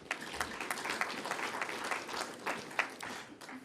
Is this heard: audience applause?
yes